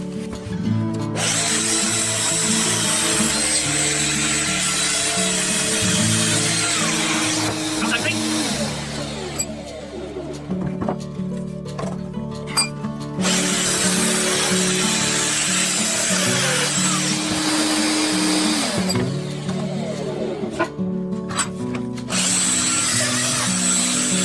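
A Festool Domino 700 XL doweller cutting mortises in wood for a five-bar gate, with two long loud bursts of close motor whine and cutting noise separated by quieter handling sounds, and someone talking in between.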